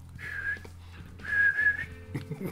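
A thin whistling tone in two drawn-out bursts, imitating the whistle of a nose, followed by a brief low vocal sound.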